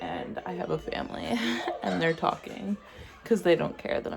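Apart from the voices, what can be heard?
No everyday noises stand out.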